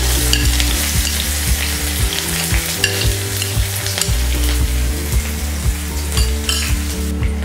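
Steady, loud sizzling of onions frying in hot oil with mustard seeds and curry leaves, a continuous crackle with occasional stirring clatter and no voices.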